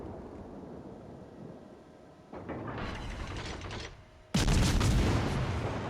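Cruiser guns fire in a naval video game: two heavy booming salvos, the second louder and closer, roll out over a low rumbling background.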